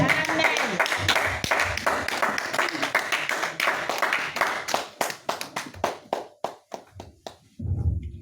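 Congregation at a Sunday praise and worship service clapping loudly, dense at first then thinning into scattered individual claps, with a voice rising at the end.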